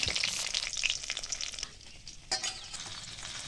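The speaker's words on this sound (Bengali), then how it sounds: "এবার কড়াইতে সর্ষের তেল দিয়ে তেলটা গরম করে নি, মাছগুলো একে একে ছেড়িয়ে উল্টে পাল্টে লাল লাল করে সব মাছগুলো ভাজি তুলে নেব" Fresh river fish frying in hot mustard oil in a kadai, a loud crackling sizzle with spattering bursts and stirring scrapes, easing to a softer hiss midway before flaring again, no voices.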